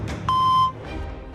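A single sustained electronic beep sounds on a switched-off mobile phone before it connects to voicemail, clear and close, preceded by a short faint tone and followed by quiet background hum.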